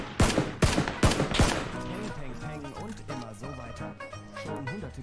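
Rapid bursts of video game gunfire ring out loud and close during the first second and a half, then give way to a busy game soundscape with voices talking over it.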